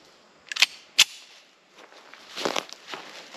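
Two sharp cracks from a Colt Combat Elite 1911 pistol firing 230-grain hardball rounds into a tree about four yards away, spaced roughly half a second apart outdoors, followed by faint rustling and shuffling.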